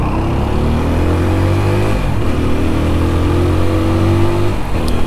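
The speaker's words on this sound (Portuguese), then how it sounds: "o escapamento tem um som bem grave, bem legal" A Dafra TVS Apache RTR 200 motorcycle revving steadily up close, its exhaust giving a deep, low growl with rising and falling engine pitch throughout and no talking.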